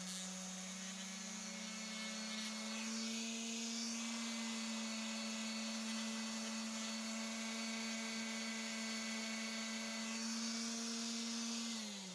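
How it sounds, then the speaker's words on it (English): A hand sander whirs continuously at close range on a wooden screwdriver handle, its motor pitch stepping up slightly partway through and holding steady. "now I'm going to refine this shape with a hand sander"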